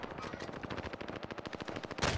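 Rapid automatic gunfire in a video game, a steady stream of sharp shots that strike the player, ending in a louder final burst.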